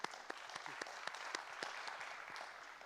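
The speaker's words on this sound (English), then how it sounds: "Can give her a round of applause" Applause from a conference audience at an international trade and macroeconomics meeting: scattered individual claps build into a steady, moderately distant patter of clapping hands, with no voices over it.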